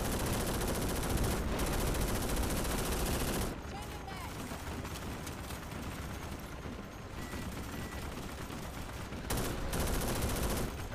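Several enemy gunners open fire during an ambush in a video game, producing dense, sustained bursts of gunfire that continue throughout, louder at the start and end, with a voice speaking intermittently underneath.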